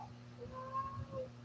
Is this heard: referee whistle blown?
no